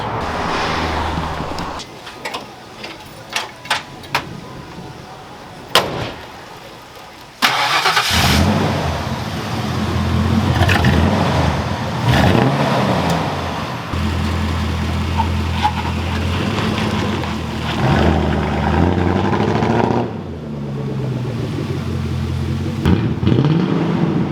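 After scattered clicks and a short crank, a Fox Body Mustang's engine catches and runs close by with a rough, uneven misfiring idle that stumbles now and then.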